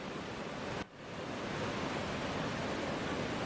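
Heavy, steady roar of water discharged from Gangapur dam into a flooding Godavari river at Nashik, a dense continuous rush that dips for an instant and then carries on loud and unbroken.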